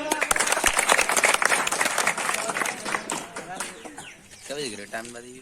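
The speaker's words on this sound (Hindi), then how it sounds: "एक बार जोड़ो तालियां।" A crowd at a quiz competition claps in a loud burst of applause that gradually thins out, with voices and background chatter underneath.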